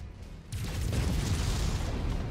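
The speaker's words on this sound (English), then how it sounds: "Artillery emplacement destroyed." An artillery emplacement is destroyed in the MechWarrior 5 video game, with a sudden deep blast that swells into a long, loud rumbling roar.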